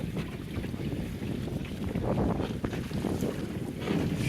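High wind and waves on Duluth harbor heard from a small John Welsford Navigator sailboat: a loud, steady roar of wind buffeting the microphone with surging water that swells and falls throughout, no voices.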